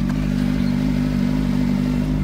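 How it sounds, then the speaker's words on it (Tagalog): Motorcycle engine running loud and close, a steady droning rumble with a constant low hum throughout and no talking. "Ingay ng motor ng putang inang yan oh."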